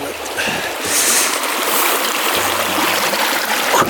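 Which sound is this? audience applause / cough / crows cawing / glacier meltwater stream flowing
glacier meltwater stream flowing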